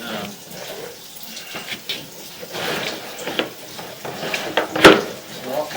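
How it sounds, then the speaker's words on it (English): Water flushing through a residential drain line, a rushing, gurgling wash with uneven surges and a few knocks and clatters, one sharp bang near the end, heard fairly close. "hopefully this is flushing the line out."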